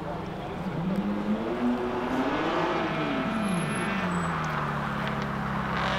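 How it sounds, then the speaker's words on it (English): A BMW race car climbs a hillclimb course, its engine a steady, loud drone with one rising and falling swell of revs as it passes, then settling into a sustained roar. "Look at that Beamer going straight up the hill towards the finish line now."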